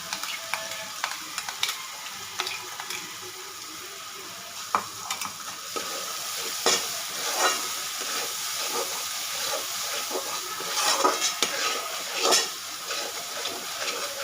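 Onion-tomato gravy for a matki bhaji is stirred and sautéed in oil on a pan over a medium gas flame. A steady close sizzle runs throughout, with repeated scraping strokes of a spoon and no voices.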